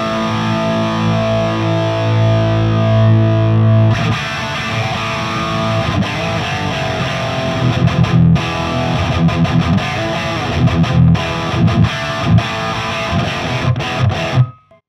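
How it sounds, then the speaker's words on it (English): An electric guitar runs through an AMT R2 pedal into an AMT Pangaea CP16A cab simulator with an air impulse, giving loud distorted chords and riffs that ring steadily before cutting off abruptly at the end, no talking. "you can hear the AMT R2 through the Pangaea model with the air impulse"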